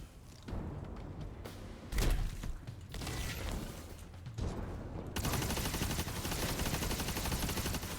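Rapid fusion rifle fire in a sci-fi shooter game, a dense continuous barrage of loud mechanical shots and thumps with brief pauses before a sustained stretch of firing.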